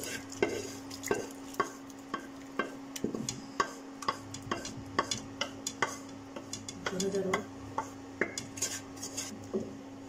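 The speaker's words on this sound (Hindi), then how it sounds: "तो अब हम अपना मसाला इस लस्सी में ऐड करेंगे।" Masala being stirred into kadhi, a yogurt-based curry, in a metal pot, with a spoon scraping and clinking against the sides in a steady rhythm over a faint sizzle and a steady hum, close and unvoiced.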